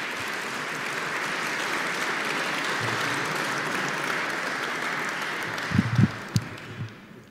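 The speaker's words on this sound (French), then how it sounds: "Donc on va les applaudir tout de suite." Sustained applause from an audience at a French Academy of Sciences prize ceremony honouring young science prize winners, steady and fairly loud for several seconds before tapering off with a few last claps and low thumps.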